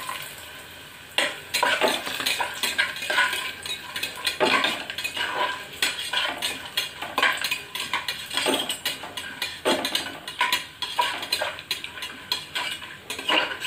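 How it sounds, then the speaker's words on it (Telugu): Coconut pieces frying in ghee, crackling sizzle under busy, repeated metallic scrapes and clinks of a spoon stirring against the pan, close and fairly loud, with no speech. "అందులో మనం ఇప్పుడు కొబ్బరి ముక్కలు వేయించుకుందామండి"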